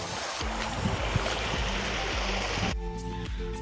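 Rainwater after heavy rain flows steadily and loudly in a stream in Mandvi, a dense continuous wash that shifts slightly in tone near the end.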